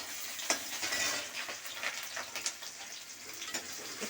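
Chopped onion and a bay leaf sizzle in hot oil in a pan for a shrimp and Malabar spinach chorchori, a steady close frying hiss broken by scattered sharp crackles and pops, with no talking.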